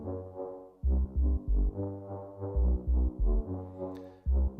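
A pitched-down air flute drones over punchy 808 sub bass hits in a grime instrumental, the deep bass notes pulsing in a syncopated rhythm beneath the breathy, low, sustained tone.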